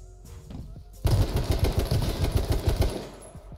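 Rapid gunfire in an online multiplayer shooter game, a dense burst of repeated shots after a quiet start, loud and close.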